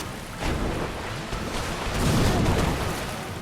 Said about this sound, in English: The lightning chain is just unreal.